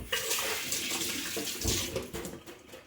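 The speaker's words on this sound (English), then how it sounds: "Wash my hand." Hands being washed under a running kitchen tap after cutting up coconut, a steady broadband water splash with shifting flow that continues throughout, with no talking.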